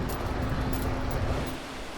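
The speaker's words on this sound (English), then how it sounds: "water pours off the elevated road above us in sheets" Heavy rain pours in sheets off an elevated road overhead onto a cave shelter, a dense steady roar of rushing water that fills the clip and eases slightly toward the end.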